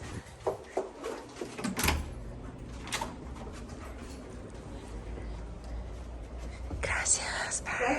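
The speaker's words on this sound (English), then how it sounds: "let me open the door for you." A door is opened at a clinic in Lima. A few soft knocks and clicks come first, followed by a louder rustling burst near the end, while quiet whispering voices carry on underneath.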